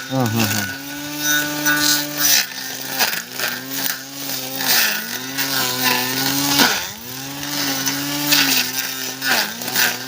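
A battery-powered weed cutting machine slicing through weeds in a crop row, its motor whining steadily with repeated dips and surges as it bites into growth, loud and close, with people talking over it.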